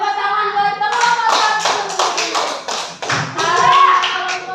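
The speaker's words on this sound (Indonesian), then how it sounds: "tepuk tangan buat kelompok" Children in a classroom clap for a group of classmates, a lively burst of many small hands slapping in quick, uneven rhythm, loud and close, with voices mixed in.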